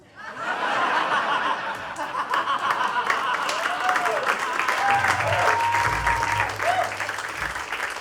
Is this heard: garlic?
no